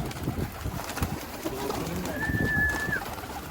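Pigeons cooing close by in soft, low repeated calls, with light rustling and a faint whistle-like tone in the background.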